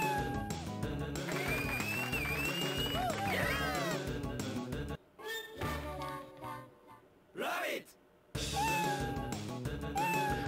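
A cartoonish cat meows over bright game music in a Sonic Team video game; the music cuts out briefly and a rising, falling meow stands out near the end.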